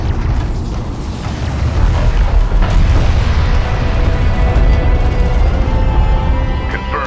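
An enemy siege cruiser explodes in the real-time strategy game Homeworld: Deserts of Kharak, giving a loud, rumbling boom that swells into a dense roar. The blast stays sustained and heavy for several seconds, with no voices over it.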